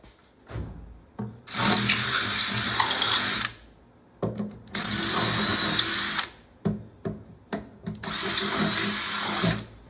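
A power drill bores through a wooden sailboat bulkhead on a Pearson Ensign, in three long grinding bursts with short rubbing and clattering sounds between them, close and loud.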